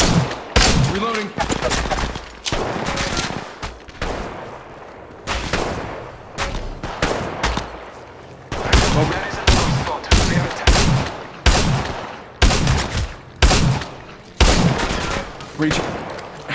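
Gunfire in the mobile battle royale game Apex Legends Mobile, loud bursts of rapid automatic shots in repeated volleys with short pauses between them, alongside clipped game announcer voice lines.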